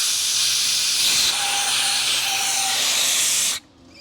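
Air rushes loudly from an open valve on an inflatable paddleboard, a strong steady hiss close to the microphone that cuts off abruptly near the end as the valve is closed.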